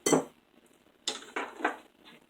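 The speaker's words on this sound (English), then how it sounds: "hold one side of the bowl and then mix it really good" Spatula or spoon scraping and clinking against a bowl while cherry cobbler batter is mixed, a few distinct bursts with quiet gaps between them, close and fairly soft.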